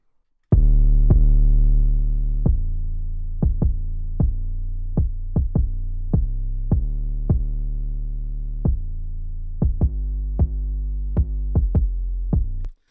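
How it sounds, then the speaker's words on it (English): Deep, sustained distorted bass notes with a gritty, saturated edge, played in a loose rhythm of repeated hits, loud and alone without any talking. "we wanna add a little bit of distortion to it, so that way when we put it in the car, you can hear that bass"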